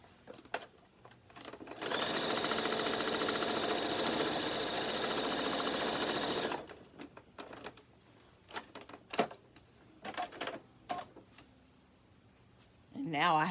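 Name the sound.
sewing machine sewing quilt patches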